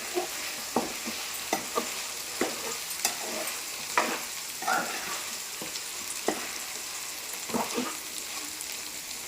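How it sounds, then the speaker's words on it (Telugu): Chicken curry being stirred in a pan on the stove, a soft continuous sizzle broken by repeated close spoon scrapes and taps in an irregular rhythm. "ఇలా కలిపి చూద్దామండి"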